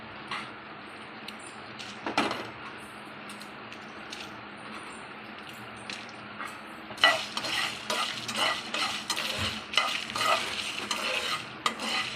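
Dried red chillies fry in oil while a spoon stirs them in a pan for a spicy chicken fry masala. A soft sizzle runs throughout, and busier scraping and clinking stirs build in the second half.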